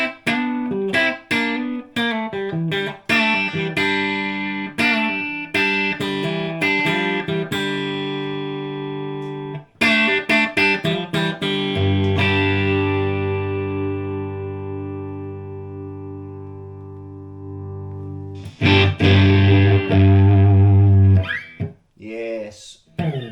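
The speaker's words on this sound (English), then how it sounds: "Right, that's on the 4x12 now, so let's have a listen to that." An electric guitar runs through a Matterhorn 5 watt amplifier into a 4x12 cabinet, with distorted strummed chords and picked notes, some long ringing sustained chords and a loud burst near the end, played close and prominent.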